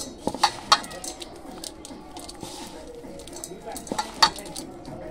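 Dal being mashed and mixed by hand in a bowl, with soft, squelchy kneading and a few sharp clicks of utensils against a dish, close and fairly quiet.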